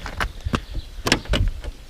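Door of a Ford Mercury Cougar V6 coupe working with a series of sharp clicks and latch knocks, several quick mechanical taps in a loose rhythm, close and fairly loud with no talking.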